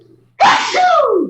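A single sharp sneeze bursts out after a moment of near silence, close and loud, trailing off into a breathy tail.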